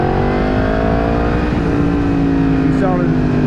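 A 2017 Yamaha FZ10 (MT10) sport motorcycle's engine climbs steadily in pitch while riding, a close, loud, continuous rising drone.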